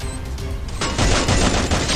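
Rapid gunfire from a long-range gun in a video game, a loud burst of repeated shots that begins partway in and continues in quick, uneven succession.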